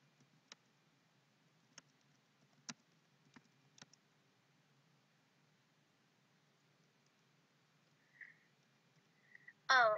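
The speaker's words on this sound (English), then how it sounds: "While she's typing," Sparse keyboard clicks from someone typing on a computer, a few isolated keystrokes spaced out over several seconds in a quiet room, followed by a brief tone and a louder burst at the end.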